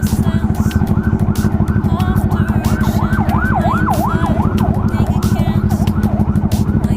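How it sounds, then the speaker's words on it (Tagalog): An ambulance siren wails loud and close on a city street, cycling through rising and falling tones over steady, dense traffic rumble and engine noise. "may ambulansya, oh"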